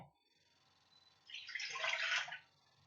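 Water poured from a measuring cup into a bowl, about one and a half cups, a soft splashing rush lasting around a second, close and moderately quiet after a near-silent lead-in.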